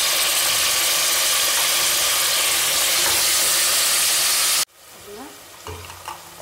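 Onions and tomatoes fry in a pan for chicken biryani, a loud, steady sizzle with stirring scrapes that cuts off abruptly, leaving faint clinks and quieter kitchen sounds.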